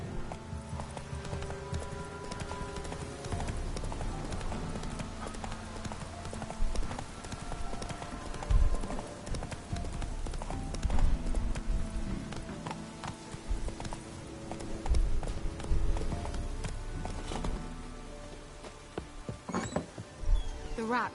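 Roach, the horse in The Witcher 3, gallops along in a steady clip-clop of hooves, close and continuous, with game music and ambient sound underneath and a few louder thumps along the way.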